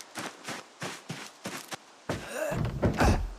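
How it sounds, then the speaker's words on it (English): Distant gunfire in the zombie survival game Project Zomboid, a series of dull, thudding reports in an uneven rhythm, followed by a louder, denser stretch of overlapping bangs and rumble. "Dude, do you hear those shots?"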